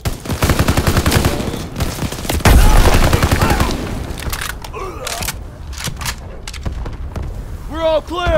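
Call of Duty WWII combat in a final campaign battle: rapid machine-gun fire and heavy booming blasts, including a grenade explosion, loud and continuous, with soldiers' voices shouting through the gunfire.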